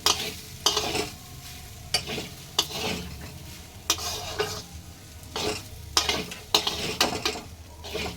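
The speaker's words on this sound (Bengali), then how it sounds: "এবার নাড়াচাড়া করতে হবে ভালো করে। দাও নাড়া দাও।" Sago pulao with tomato is stirred in a pan, the spoon repeatedly knocking and scraping the metal in uneven bursts over a soft, continuous sizzle.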